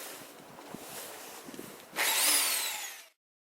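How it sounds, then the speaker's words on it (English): A belt sander with an 80-grit belt grinds against a snowboard base, starting low and rough, then surging into a loud, bright whine for about a second before cutting off abruptly. "I was using an 80 grit sanding belt"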